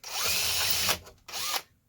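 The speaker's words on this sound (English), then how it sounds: "which doesn't take much to drill out." A power drill whines loudly in two bursts, a long one then a shorter one, drilling out an 11/64 hole up close while fitting a Noctua fan.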